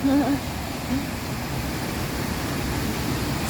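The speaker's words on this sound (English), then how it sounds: "There's a little waterfall here." A small waterfall in East Greenwich Town Park makes a steady, even rushing wash of water throughout. A faint voice is briefly heard at the very start.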